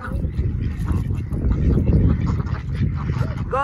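Ducks at a pond crowd in and quack in a busy, overlapping jumble close by, with steady splashing and general bustle beneath the calls.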